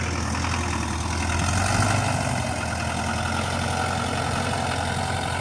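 A heavy old tractor engine idles steadily with a low rumbling drone, constant and unbroken throughout, fairly close.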